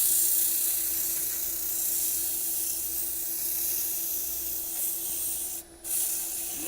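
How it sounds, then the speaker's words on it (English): Coarse sandpaper scrubs steadily against a small wooden ornament, a continuous close, dry rasping that holds even throughout with a brief dip near the end. "Let's hit this with the coarse sandpaper."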